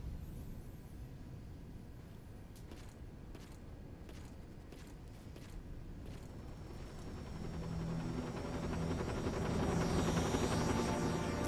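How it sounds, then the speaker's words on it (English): Video game helicopter from Dirge of Cerberus: Final Fantasy VII, a steady mechanical rotor drone with creaks and thumps that swells louder toward the end, with no talk over it. "I remember losing to this helicopter quite a lot."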